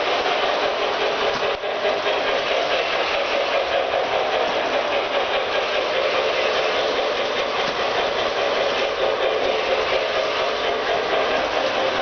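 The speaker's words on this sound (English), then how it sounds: "let's turn it on. It is a trolley." A small electric model trolley hums and whirs steadily on its rails, a continuous mechanical drone with faint rattling and one brief click early on.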